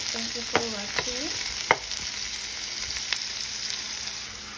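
Garlic, ginger and onion sauté in a pan, a soft steady sizzle with a few sharp scraping stirs of a utensil against the pan, close by with no talking.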